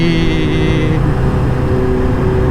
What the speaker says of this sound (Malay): Bunyi dia lagi kuat daripada motor aku lah, punya exhaust dia.